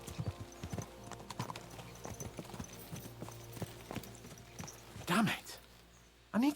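Galloping horses in Kingdom Come Deliverance 2 give a brisk, close clip-clop of hooves, broken near the end by two loud vocal bursts that could be a whinny or a voice.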